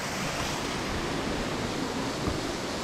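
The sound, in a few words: waterfall in Brocéliande forest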